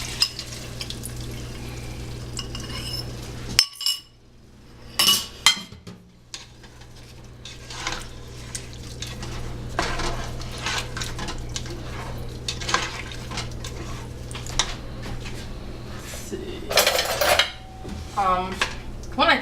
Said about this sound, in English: reduce my flame a little bit, and then stir this together properly and add it